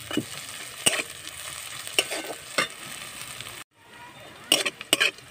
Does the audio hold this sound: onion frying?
yes